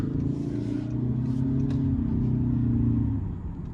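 A 2025 Toyota Camry XLE AWD pulls away from a stop with a steady, rising engine drone that swells for about three seconds and then eases off. The sound is smooth and continuous, with no tire squeal and no talking.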